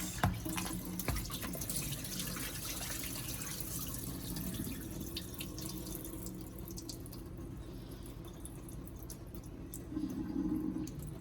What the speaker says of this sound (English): I'm going to continue to let this water run probably about a minute, make sure it's clear